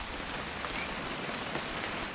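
Steady rain in the video game What Remains of Edith Finch, a dense, even hiss of falling drops pattering on surfaces, constant and enveloping with no talk.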